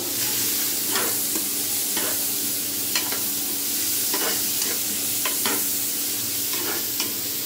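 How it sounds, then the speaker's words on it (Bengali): Chopped onions stir-fry in the oil left from frying koi fish, a steady loud sizzle broken by regular scrapes and clinks of a spatula against the pan. "এখন এগুলো আমি সুন্দর করে ভেজে নেব"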